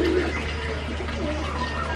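A soft call from a magpie robin in an aviary sounds briefly at the start against a steady background hum, with faint chirps scattered through the rest.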